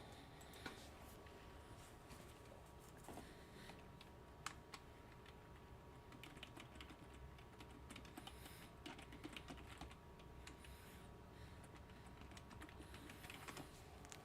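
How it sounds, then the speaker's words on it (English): Keystrokes tapped on a computer keyboard, a soft steady stream of quiet clicks at close range against a low room hum, with no voices. "let me type it in for you"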